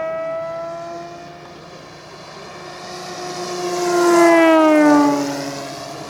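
A Seagull Models AT-6 Texan RC model airplane, built as a Reno racer, makes a steady engine and propeller drone that swells and Doppler-shifts downward as it makes a fast, loud pass close by.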